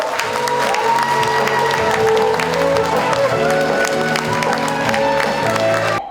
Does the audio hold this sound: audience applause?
yes